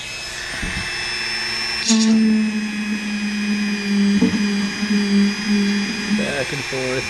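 Rotary tool friction stir welding a 3D-printed plastic seam, a steady high whine with spurts of louder grinding as the tool moves back and forth along the seam; a voice talks over it.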